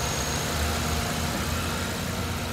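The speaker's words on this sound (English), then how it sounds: "Vehicle start right up, no issues." Four-cylinder engine of a 2012 Hyundai Veloster running at a steady idle, a close, continuous low hum with a faint whine and no speech.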